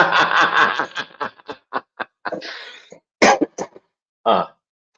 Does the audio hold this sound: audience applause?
no